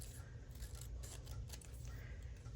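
Scissors cut through journal paper in a quiet room, making a quick series of faint, crisp snips and rubs over a low background hum.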